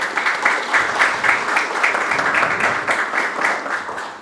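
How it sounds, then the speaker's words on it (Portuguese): An audience at a climate conference applauds a sustainability magazine's editor, a dense, continuous round of clapping that stays loud and even for about four seconds with no talk over it. "Uma salva de palmas para a nossa editora"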